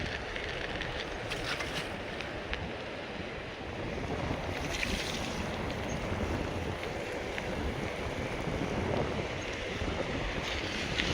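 Surf rolls in at Colva Beach in South Goa, heard as a continuous wash of waves mixed with gusting wind buffeting the microphone, fairly even in loudness throughout.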